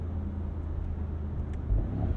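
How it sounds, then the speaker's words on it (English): Engine note from a 2023 Mercedes-AMG SL 63 on a downshift, a close steady low rumble that swells slightly near the end, with no talk over it. "you want to use it simply for the fact that your downshifts elicit this noise"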